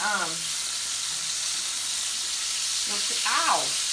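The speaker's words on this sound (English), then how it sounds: "you just fry up some sausage" Sausage frying in a pan, a loud steady hiss and crackle of sizzling fat throughout, with a person briefly talking over it at the start and near the end.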